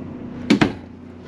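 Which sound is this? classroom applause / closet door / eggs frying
closet door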